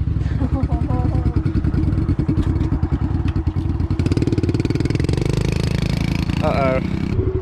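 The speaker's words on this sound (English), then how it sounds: "Gonna ride pit bikes?" A pit bike's small single-cylinder engine putters and revs at close range with a rough, rapid rhythmic beat, while people talk over it.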